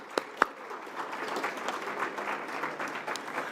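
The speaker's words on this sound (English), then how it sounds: "Another big round of applause for Miss Janine." A press conference audience for the National Battle of the Bands gives a round of applause for an artist. A couple of sharp claps come first, then a steady patter of clapping from a modest crowd.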